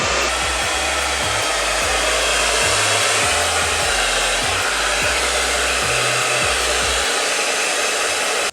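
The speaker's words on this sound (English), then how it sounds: "so I'm just gonna take my blow dryer and put it on." A handheld blow dryer roars loud and close as it dries the hair roots and scalp during a twist-out hair routine, a continuous airy whoosh with a low pulsing undertone and no talking.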